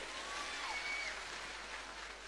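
A crowd claps steadily at an outdoor election campaign rally for Chief Minister Himanta Biswa Sarma in Mikirbheta, Morigaon, Assam. The dense, even applause sounds like rain and carries on without a break.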